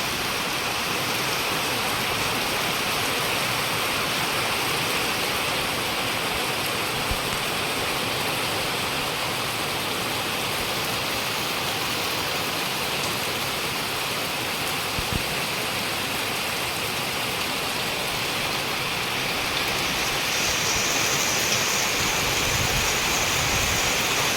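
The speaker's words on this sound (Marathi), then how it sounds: "प्रचंड म्हणजे खूप मोठा जोराजोरात पाऊस लागतो आहे" Heavy first-monsoon rain pours down in a dense, steady roar without a break, loud and close, with no voices over it.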